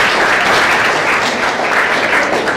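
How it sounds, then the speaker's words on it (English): Loud, sustained applause from students at a junior college orientation programme, a thick continuous roar of clapping hands that stays close and even for the whole stretch with no talk over it. "have a big round of applause for the Andhra College"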